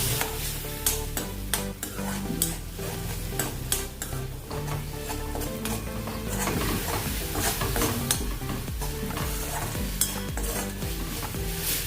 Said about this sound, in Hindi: अभी इसको थोड़ा देर और से भुनेंगे